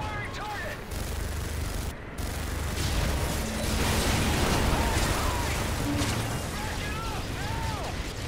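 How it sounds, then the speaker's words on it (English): Sustained minigun fire in Modern Warfare 3, a dense continuous roar of rapid shots with rumbling low end, running nearly unbroken for the whole stretch amid battle noise, with brief dips and voices mixed in. "I know all about that minigun."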